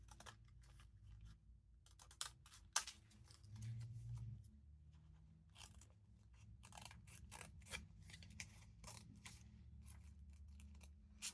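Scissors snip close by, trimming the sides of a fabric scrap embellishment in quick irregular bursts of crisp cuts separated by short pauses, faint and alone without speech.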